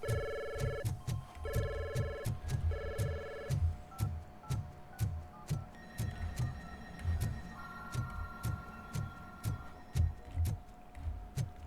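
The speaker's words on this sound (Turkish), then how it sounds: "Telefonların hepsi çalıyor" Telephones ringing in the video game RoboCop: Rogue City, with repeated electronic ring bursts overlapping several phones, over a steady low throbbing pulse and hum.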